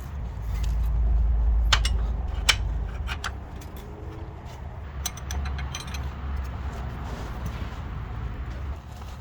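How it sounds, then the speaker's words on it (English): A ratchet undoes the gearbox fill nut on a Honda EK Civic, giving bursts of quick metallic clicking over a low background hum, with several sharp individual clicks and short pauses between strokes. "This little nut there, that's where you fill it. So I'm just gonna undo that now."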